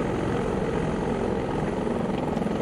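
A simulated AS565 helicopter in X-Plane 11 hums steadily with its turbines spooled down slightly, giving a constant whine and rotor drone at an even, close level without speech.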